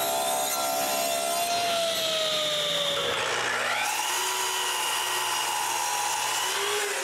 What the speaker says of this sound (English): I begin by ripping strips from its side.